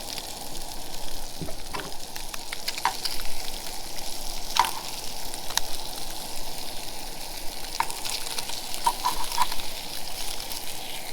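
Speared fish frying in a hot pan at a Hawaii campsite, a continuous crackling sizzle with scattered pops and sharper spits throughout, fairly close and steady.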